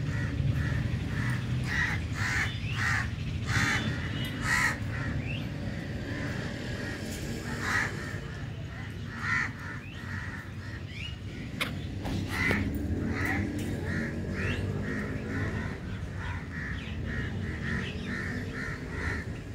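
Crows caw repeatedly outdoors over a steady background hum, the harsh calls coming in irregular bursts, some near and some farther off.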